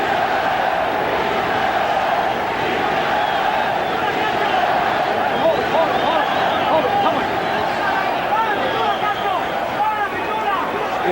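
Dense, steady roar of a large boxing arena crowd at the Julio Cesar Chavez vs Kostya Tszyu fight, continuous cheering and babble with scattered shouts, loud and unbroken throughout.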